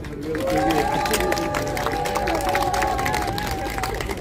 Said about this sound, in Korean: 박수 소리가 좀 적은데요